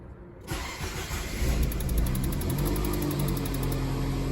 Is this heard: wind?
no